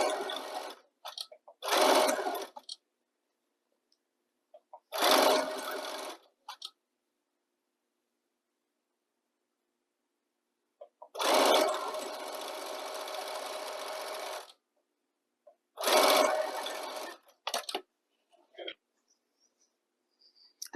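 A sewing machine stitches stretchy apron fabric in four short bursts of rapid, close whirring, separated by quiet pauses. The longest run lasts about three seconds.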